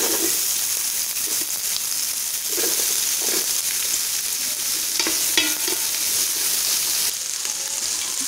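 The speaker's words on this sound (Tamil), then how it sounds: "இப்போ நம்ம பட்டை கிராம்பு அதில் சேர்த்துக்கலாம். அப்படியே நம்ம வெங்காயத்தையும் ஆட் பண்ணிக்கலாம்." Sliced onions, cinnamon and cloves fry in hot oil in a pan for mutton biryani, giving a steady, close sizzle with faint stirring scrapes throughout.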